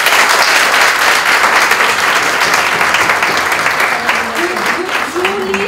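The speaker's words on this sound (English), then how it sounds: "A huge, huge round of applause" A large audience at a Women's Day celebration gives loud, sustained applause, a dense wash of clapping that carries on throughout as a voice starts speaking near the end.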